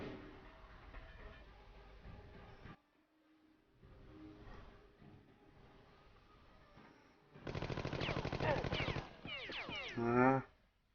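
Automatic gunfire from the video game Jagged Alliance 2, in loud rapid bursts over the last few seconds after quieter game sounds and music.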